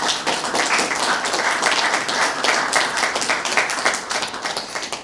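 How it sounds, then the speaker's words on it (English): Audience applause at a local community funding announcement, a full room of steady clapping that holds at an even level throughout, with no voices over it. "let's give them another round of applause."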